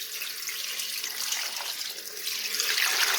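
Filtered water pours steadily from a tap into a stock pot for homemade turkey stock, a continuous close splashing rush that grows slightly fuller toward the end, with no talk.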